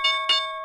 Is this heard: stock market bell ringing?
yes